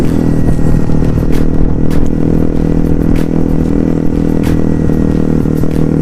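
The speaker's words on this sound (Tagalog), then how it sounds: "May dumaang motor." A motorcycle on a rural road to Magallanes goes by close while a rider on a Honda Navi keeps moving; loud, steady engine drone and wind rumble run throughout with no pauses.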